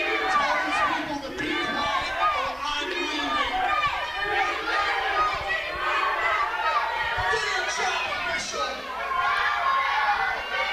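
A wrestling crowd at a live match keeps up a steady roar of chatter, shouts and scattered cheering, with voices rising over the din.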